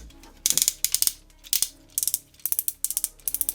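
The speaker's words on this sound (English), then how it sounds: "Very nice sounding ratchets" Shoulder joints of a Transformers Starscream leader-class toy figure being ratcheted, giving bursts of crisp plastic clicks in quick rhythmic groups of three to five with short pauses between, close and fairly loud.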